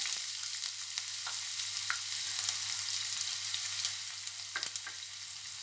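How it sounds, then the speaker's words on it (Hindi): Mustard seeds and chopped onion fry in hot oil for vermicelli upma, a dense continuous sizzle with scattered small pops and crackles, close and steady, with no voices over it. "तेल गर्म हो जाए उसमें थोड़ी सी राई डालेंगे। उसके साथ साथ हम इसमें एक और कटा हुआ प्याज लिया है मैंने,"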